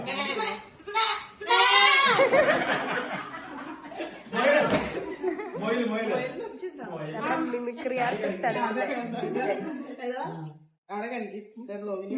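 A person imitates a goat's wavering bleat several times amid laughter and lively talk from a few people close by.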